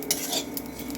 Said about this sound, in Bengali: কড়ার মধ্যে আমি জিরে শুকনো খোলায় ভেজে নেব